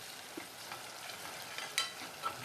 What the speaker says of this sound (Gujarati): દહીંને એકદમ મિક્સ કરી લઈ.